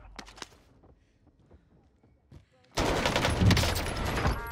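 Gunfire erupts in a Call of Duty Cold War Warzone match as a dense, loud burst of rapid shots after a quieter stretch of scattered faint clicks and footsteps.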